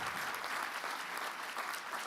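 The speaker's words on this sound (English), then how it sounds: "You can definitely clap for that if you would so desire." Steady, dense applause from a large audience at the 2023 Dr. Martin Luther King Jr. Prayer Breakfast fills the room, even and continuous throughout with no voices above it.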